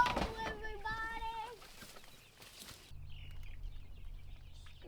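Young chicks on pasture give several rising chirping clucks over the first seconds, close by, before a steady low background hum takes over. People speak nearby.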